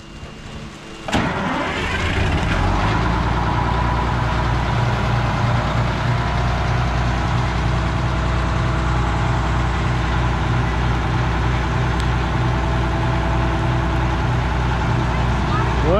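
An Air Force cabover truck's engine cranks and catches on its first start-up, then settles into a loud, steady, rumbling idle close by for the rest of the stretch.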